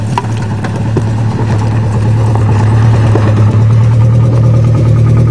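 A 1994 Volkswagen Jetta engine runs loudly and steadily nearby, a constant low mechanical drone with faint repetitive ticking from the motor layered over it, no talking.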